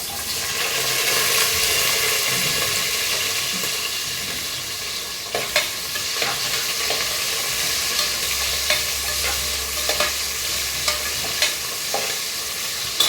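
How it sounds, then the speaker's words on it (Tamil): Onion and green chillies frying in a pan, a broad continuous sizzle with intermittent scraping and stirring clicks, close and fairly loud, no voices. "இப்போ வெங்காயமும் பச்சை மிளகாவும் சேர்த்துக்கலாம்"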